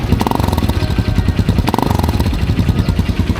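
A motorcycle engine runs close by in Vietnam with a rapid, throbbing idle that briefly revs up twice, loud and steady throughout.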